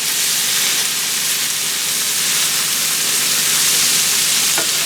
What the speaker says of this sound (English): Let me get this garlic going.